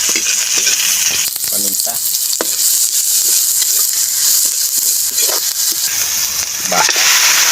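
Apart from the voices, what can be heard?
sautéing garlic and onion in a pan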